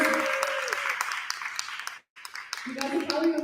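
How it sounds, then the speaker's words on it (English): An audience at a Spanglish concert claps for the musicians in a moderate round of applause that breaks off into a brief silence, then resumes as a voice speaks over it. "Let's give a round of applause for all of our musicians."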